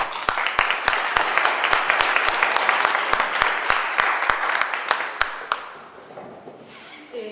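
Audience applause welcomes a speaker at a climate policy lecture, sustained clapping from a seated crowd with sharp individual claps standing out, fading out toward the end.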